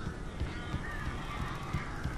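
Flock of attacking birds in the Alan Wake video game, a dense chorus of honking, squawking cries and fluttering with a constant rumbling background, loud and continuous.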